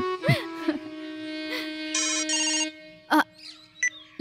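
An electronic telephone ringtone trills in bursts, with a few short voice sounds and clicks in between.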